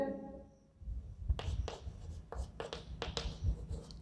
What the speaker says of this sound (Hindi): आप यहां DK मलिक लिख सकते हो